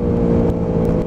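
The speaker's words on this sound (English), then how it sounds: "as you can hear, I've still got plenty of throttle on the bike to keep it going" An Aprilia RS125 two-stroke motorcycle runs at full throttle on a test ride, giving a sustained, buzzing engine drone with a steady pitch, loud and near, with no talking.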